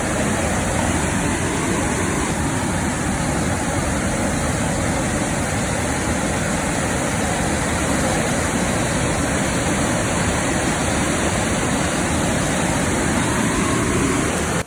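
A loud, continuous roar of rushing water from the Manimala River in strong current, steady throughout with no pauses or voices.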